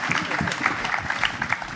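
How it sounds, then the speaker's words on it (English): Children in an audience at an outdoor panel give a round of applause, dense, even clapping that carries on without a break and fills the space. "Can we have a huge round of applause from all of the kids in the audience?"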